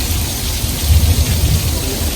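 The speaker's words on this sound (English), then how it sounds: "that is how we make it rain here at Universal Studios Hollywood" Artificial rain effect on a studio backlot at Universal Studios Hollywood, a loud, steady wash of falling water with a low rumble underneath, continuous and close.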